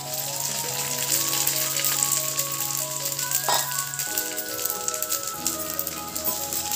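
Continuous close sizzle of whole black pepper, cinnamon and cloves frying with washed rice in a pan for khichdi, a steady crackling hiss beneath soft sustained musical tones.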